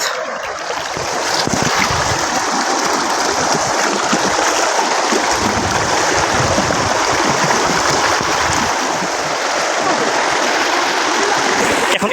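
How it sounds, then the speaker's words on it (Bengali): Strong river current rushing through Bichanakandi in Sylhet, a loud, steady broadband wash of flowing water that holds unbroken for about twelve seconds. "এখানে মোটামুটি পানি ভালোই স্রোত"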